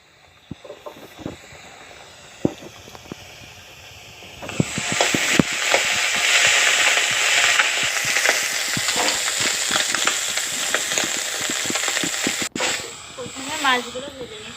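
Puti fish frying in a pan: a quiet start with scattered taps, then a loud dense sizzle and crackle takes over and holds for about eight seconds before easing, close up, with a voice briefly heard near the end.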